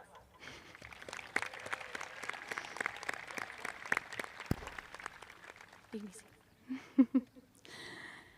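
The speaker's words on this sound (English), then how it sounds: "Please give them a round of applause." An audience applauds at a 2022 high school graduation ceremony in Boonsboro, held outdoors on a cool fair day. Steady, dense clapping lasts several seconds before thinning out, followed by a few scattered louder knocks and other brief noises.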